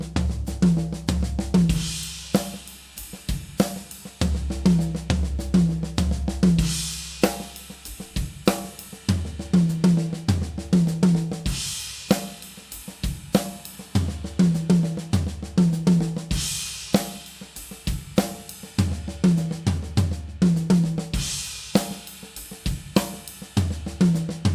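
A drum kit plays a repeating single-stroke pattern with accents shifted onto the high tom and fourth tom, crisp punchy hits and cymbal crashes in a steady looping groove, played alone without speech.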